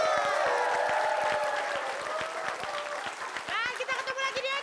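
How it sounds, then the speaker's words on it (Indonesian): Studio audience clapping for the Padat Karya act on the Indonesian comedy show Funtastik, a steady spatter of applause under loud overlapping talk and music-like tones that swell toward the end. "ya kita berikan tepuk tangan untuk Padat Karya"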